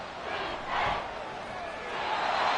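Stadium crowd in the football video game Madden 24 swells in a brief cheer and applause after an incomplete pass, rising and falling twice over a steady arena murmur.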